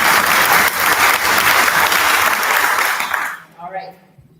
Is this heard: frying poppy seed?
no